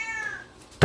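A cat meows once, close and fairly loud, in a home kitchen, a single drawn-out call followed by a sudden bump.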